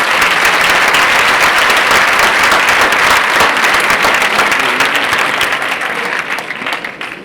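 Strong, loud applause fills a hall at a school graduation ceremony for second-year baccalaureate students, many hands clapping densely and continuously before the clapping begins to thin and fade toward the end.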